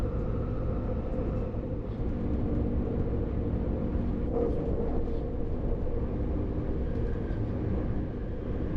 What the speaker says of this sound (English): now we have fully 2 hours of non-stop riding until we reach Paris